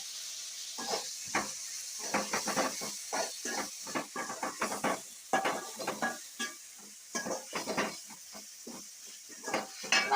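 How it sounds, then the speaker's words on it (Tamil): Tomatoes fry in masala in a pan, a quiet sizzle and hiss beneath rapid, repeated stirring scrapes and spoon taps that come in uneven bursts, close and moderately soft, no one speaking. "3 தக்காளி போட்டு நல்லா வந்துட்டு ஃப்ரை பண்ணிக்கணும்"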